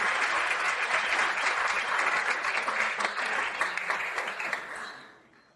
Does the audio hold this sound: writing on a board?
no